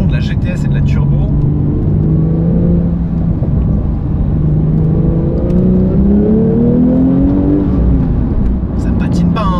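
A Porsche 911 Sport Classic with a manual gearbox on a test drive, its engine rising through several rev climbs in close cabin perspective, with talking over the engine.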